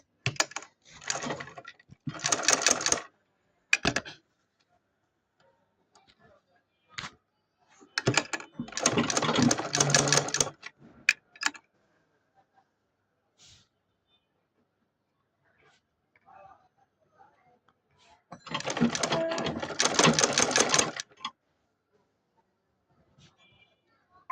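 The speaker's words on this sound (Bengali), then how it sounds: "এখন আমি এটাকে সেলাই করব।" A sewing machine stitches a salwar in several separate bursts of rapid, close whirring, broken by quiet gaps and a few light clicks.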